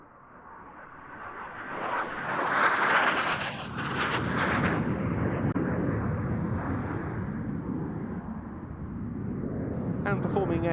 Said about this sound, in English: the aircraft then coming in for its first fast fly past, around 450 knots the speed here